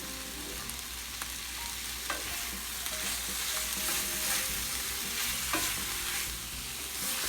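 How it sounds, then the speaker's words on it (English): Garlic frying in a Lodge cast iron skillet for shakshuka, a steady close sizzle with scattered soft scrapes of stirring and no voices. "you can see that garlic starting to stick, and we don't want that garlic to burn"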